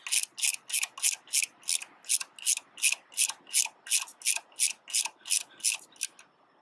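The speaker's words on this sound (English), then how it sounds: "Get those two bolts tight." Ratchet tightening the power steering pump bolts on a 2006 Acura RL, about sixteen evenly paced clicking strokes, close and crisp, with no talking.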